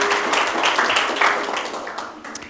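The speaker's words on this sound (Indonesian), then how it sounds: "Oke, kita beri tepuk tangan." A church congregation breaks into applause during a worship service, a dense wash of clapping that stays steady and fairly loud before thinning out slightly toward the end.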